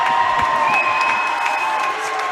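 A crowd at a Baldwin Bulldogs at Burlington Wildcats high school basketball game cheers and applauds steadily, a dense roar with whistles and shouts, fairly loud throughout.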